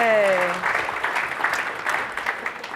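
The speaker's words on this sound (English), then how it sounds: "An alert message has never gotten that much applause ever before." An audience at a conference talk on Rust, WebAssembly and JavaScript breaks into applause after an alert message demo, a brief burst of scattered clapping and cheering, opening over a short spoken exclamation.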